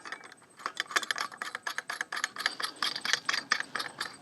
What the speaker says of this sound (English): I'm going to simply take one of those long bolts there and then put a nut on the back side